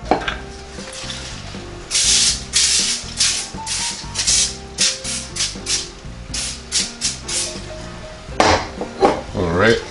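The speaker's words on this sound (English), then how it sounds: "While it's preheating, I'll go ahead and get my dough rolled out." Pillsbury thin crust pizza dough is rolled out on a kitchen counter, making repeated soft crinkling and rubbing bursts in an irregular rhythm, close by, over steady background music.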